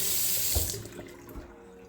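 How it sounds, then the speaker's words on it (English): A newly installed American Standard kitchen faucet runs water into the sink in a loud, close hiss that tapers off as the flow is shut, with no voices. "I've installed a new faucet in the kitchen"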